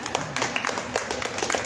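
Audience applause at a writers' gathering with Gabriel Eligio Torres García, irregular sharp claps from a modest crowd, fairly close and a little sparse, with a faint murmur of voices underneath.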